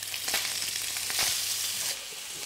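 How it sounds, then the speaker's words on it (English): Bacon pieces frying in hot oil give a loud, dense, continuous sizzle close up, with a few brief stirring scrapes, easing slightly near the end; no one speaks. "So I'm going to let the bacon get nice and brown and crispy."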